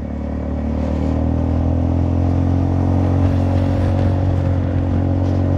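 A Honda Forza 300 scooter hums steadily while riding, its engine drone loud and close and mixed with wind rush and light clatter, holding a near-constant pitch throughout.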